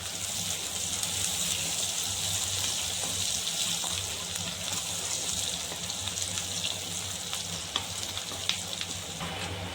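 Chopped onions frying with rock salt in a hot pan, a continuous bright sizzle with occasional crackles and pops, close and steady throughout.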